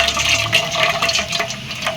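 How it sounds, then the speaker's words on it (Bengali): Water from boiled Maggi noodles pours through a strainer in a home kitchen, a steady close splashing and trickling stream with no talking. "ম্যাগির জল ঝরানো হয়ে গেছে।"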